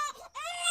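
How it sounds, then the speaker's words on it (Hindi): A newborn baby's first cry: a short, high, wavering wail that breaks off briefly and then swells again, close and clear with no other sound. "बस बच्चे की पहली रोने की आवाज गूंजी"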